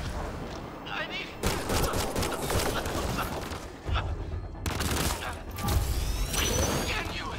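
Bursts of gunfire from a firefight in the Mass Effect: Andromeda video game, loud and sustained with mechanical clatter, while players shout over it.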